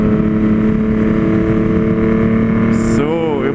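A loud Yamaha MT-09 motorcycle engine drones steadily at close range, then its pitch sweeps and wavers as it revs near the end.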